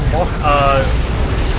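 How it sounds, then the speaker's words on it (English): A booming incendiary bomb blast in the Dawn of War 2 real-time strategy game, a brief rising tonal burst over a steady rumbling bed of battle noise. "We got Incendiary Bomb"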